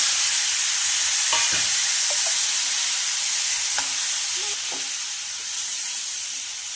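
Chickpeas frying in a little oil with masala for a spicy chickpea usal give a constant loud sizzle, with a few light spoon taps and stirring scrapes against the pan.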